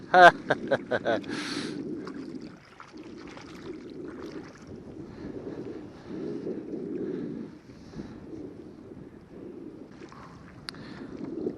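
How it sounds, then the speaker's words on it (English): Wind whipping across Kennack Sands beach in Cornwall during a kayak fishing trip, a steady low buffeting rumble against the microphone that swells and eases throughout, with a few brief knocks near the start. "That wind is really whipping along and it's got a bit of a chill to it."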